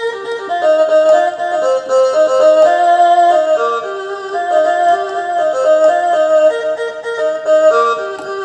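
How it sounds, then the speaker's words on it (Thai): An SV800 keyboard playing its Thai fiddle (saw) voice: a sustained, nasal bowed-string melody with sliding notes and a steady accompanying drone, loud and continuous throughout with no talking. "อันนี้เป็นเสียงซอ"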